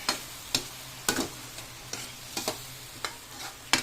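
Food is turned in a hot pan with about a dozen sharp spatula scrapes and clacks at uneven intervals over a low steady sizzle, close up and with no talking.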